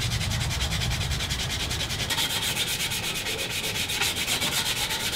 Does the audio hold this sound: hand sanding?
yes